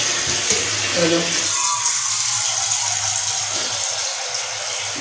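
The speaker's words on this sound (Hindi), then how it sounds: "नलके से पानी भर लो" Tap water runs steadily into a container at home, a continuous loud splashing rush, with someone talking briefly early on.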